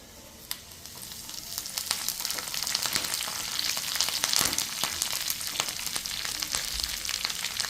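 Ginger and curry leaves sizzle steadily in hot oil in a pan, a bright continuous frying crackle with occasional sharp pops, fairly close and without any voices over it.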